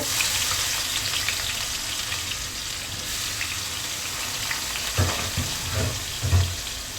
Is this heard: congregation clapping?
no